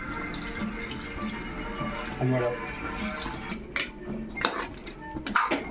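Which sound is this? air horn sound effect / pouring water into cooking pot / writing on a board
pouring water into cooking pot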